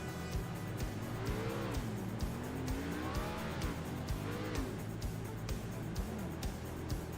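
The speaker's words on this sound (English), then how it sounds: "Yeah, dual burnouts" Race cars do dual burnouts and victory donuts on the Phoenix track at championship night, engines revving in rising and falling sweeps with tire squeal, fairly faint and distant.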